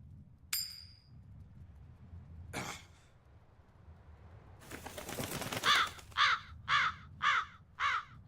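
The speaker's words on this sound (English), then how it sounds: "That crow just flew off with the coin." A crow caws in the video game Tales of Berseria, a short burst of five or six harsh, evenly spaced caws after a few isolated clicks and rustles.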